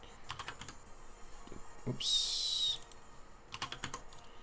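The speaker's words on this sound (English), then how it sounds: "So let's type in his little guy's stats." Bursts of clicky keyboard typing, in two quick clusters with a pause between, under a brief spoken exclamation and a short high electronic tone from a Pokémon Ultra Sun and Moon game session.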